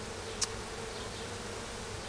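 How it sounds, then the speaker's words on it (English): A steady, dense hum of many bees buzzing together outdoors in a garden, constant and moderately loud, with one brief sharp click near the start. "There's a ton of bees there"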